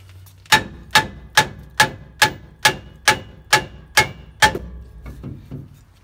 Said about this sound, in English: nothing fancy you'll need here other than just a hammer